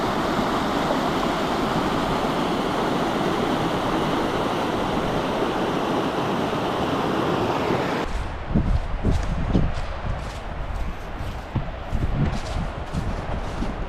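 Waterfall at Manitou Lake in Algonquin Park: a steady, dense roar of rushing water fills the first eight seconds, then gives way to a rougher, nearer splashing with wind buffeting the microphone.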